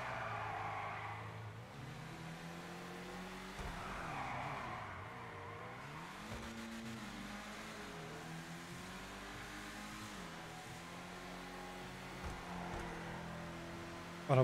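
An Ubermacht Rhinehart sedan, modeled on a BMW 5 Series, driving in GTA 5 Online: engine rising and falling through repeated revs and gear shifts with occasional tire squeal, steady and close, no talking.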